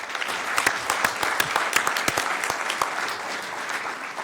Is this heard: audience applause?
yes